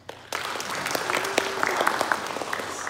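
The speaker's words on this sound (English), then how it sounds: "Feel free to applause." Audience applause at a cybersecurity talk, an indoor crowd clapping steadily at moderate volume, starting abruptly and holding for a few seconds with a faint voice or whistle tone mixed in.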